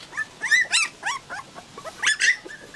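A white, shaggy Bắc Hà village dog gives a string of high-pitched yelps and whiny barks in close, irregular bursts, loud and alone without talk.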